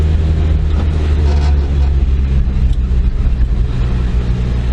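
A Honda Acty's small engine drones loudly and steadily while driving, a constant low mechanical hum with road noise and no clear pauses.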